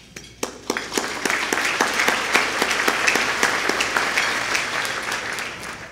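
An audience applauds at a county government State of the County address, a dense steady wash of clapping that rises quickly after a few scattered early claps and holds evenly to the end, with no voices.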